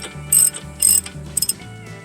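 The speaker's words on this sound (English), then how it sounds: "By hand tighten, I mean with a hand wrench or a hand ratchet." A hand ratchet clicks as it tightens a Toyota Prius front wheel bearing hub assembly, three quick bursts of sharp ratcheting close by, over faint background music.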